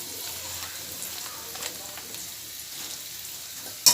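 Bitter gourd frying in a pan, a soft continuous sizzle with faint crackles, ending on a brief sharp clatter.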